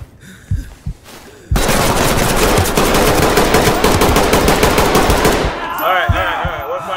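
Sustained automatic gunfire in the tactical police shooter Ready or Not, a loud continuous burst of rapid shots lasting several seconds, preceded by a few single shots and followed by quieter game sounds.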